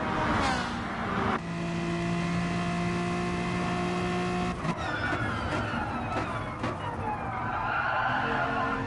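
Ferrari and BMW race cars corner hard on the final lap, with tyres skidding and screeching over loud engine howl that rises and falls, heard close and continuous throughout.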